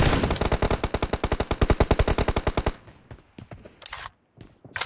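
Rapid video game gunfire rattles out in a loud, evenly spaced automatic burst for under three seconds, then gives way to scattered single shots and clatter with brief gaps of quiet.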